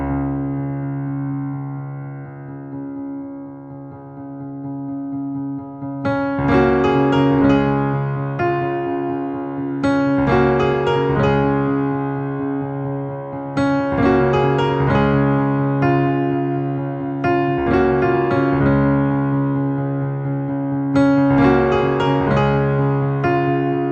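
Piano plays the opening of a piece, with a sustained low bass note under repeated bright chords that strike in steady groups. It is solo, full and close.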